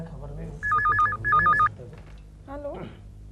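Telephone ringing with two short bursts of an electronic warbling ring, loud and close, indoors in a home, followed by a voice speaking briefly.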